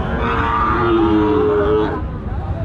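Cattle at a livestock market in Joypurhat, Bangladesh, low sustained moos with a rising drawn-out call, loud and close over a busy crowd murmur that fades after two seconds.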